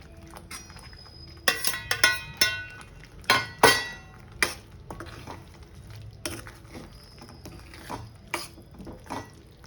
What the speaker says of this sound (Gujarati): હવે આપણે ભીંડા એડ કરી દઈશું.